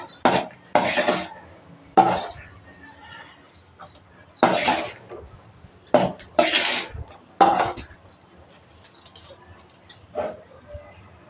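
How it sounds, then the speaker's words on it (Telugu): Cooked rice being mixed with tamarind by hand in a metal vessel: short, loud bursts of scraping and clattering, separated by quiet pauses. "ఇలా మొత్తం అన్నం మొత్తం కలిపేసుకోవాలి"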